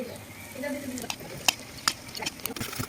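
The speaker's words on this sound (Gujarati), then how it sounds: "તેલ નાખતું જવાનું અને હલાવતું જવાનું" Hot oil with cloves stirred into a lemon, chickpea and fenugreek pickle mixture, giving a soft wet sizzle with a few sharp scrapes and clicks of the spoon.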